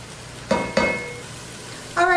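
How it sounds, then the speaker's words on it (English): Vegetables for chicken cacciatore sizzle in a pot while the liquid cooks down, a soft steady hiss broken by a few sharp scraping stirs, near and moderate in level. "you just want to reduce that liquid for a couple minutes until you have almost no liquid done in the pot"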